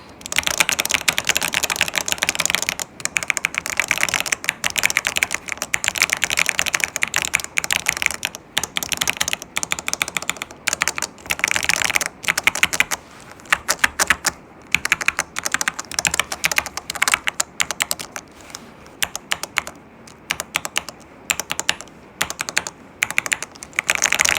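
Rapid, continuous typing on a keyboard fitted with Akko Matcha Green Pro switches resting on a table, dense close-miked clacks with brief gaps, steady and fairly loud.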